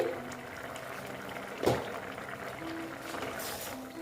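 A covered pot of drumstick and potato curry with mustard and poppy seed simmers, giving a steady, soft bubbling hiss broken by one brief knock partway through.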